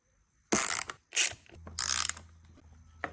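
Allen screws being loosened and removed from the right-side vent panel of a 50cc scooter: several close, short bursts of metallic ratcheting and clicking separated by brief pauses, with quiet handling between.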